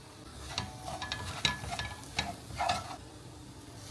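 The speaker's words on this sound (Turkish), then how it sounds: "kavurduktan sonra yarım kilo ince kısırlık bulgur ekliyoruz" Fine bulgur for kısır being stirred and toasted in a pan, with scattered scraping and faint sizzling in a soft, irregular rhythm, near and fairly quiet with no talk.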